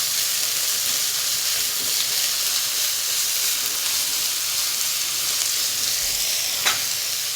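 Two finely chopped onions fry in hot oil after popping mustard seeds, giving a steady, close hissing sizzle with one faint clink near the end, and no voices.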